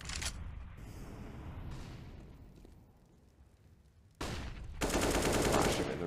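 Gunfire from a CS:GO match on the Train map, with a sustained burst of rapid shots that fades, then a loud sharp volley returns near the end. The mix is dense and forward.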